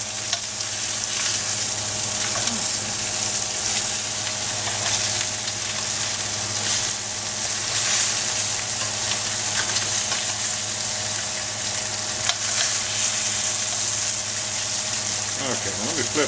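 Lamb chops fry in a hot pan with a steady, dense sizzle and crackle that runs continuously at close range, with occasional faint clatter of handling and no talk over it.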